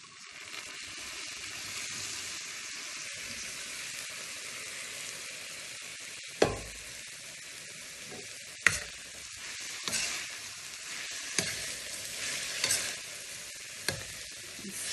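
Fresh green beans fry with crispy bacon and melted sugar in a pan, a constant close sizzle broken by several sharp clatters of a spoon stirring.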